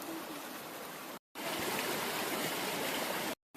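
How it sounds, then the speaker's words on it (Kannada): Water spills over from an overflowing lake in a steady, even rush. The flow runs close and constant, broken only by two brief cuts to silence. "ಕೆರೆ ತುಂಬಿ ಹರಿತಾ ಇರುವಂತಹ ನೀರು ಇದು."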